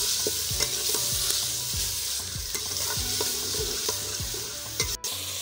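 Garlic-ginger paste and chopped tomatoes frying in a pan, a steady sizzle with repeated stirring scrapes in a regular rhythm, close and moderately loud, with no talking.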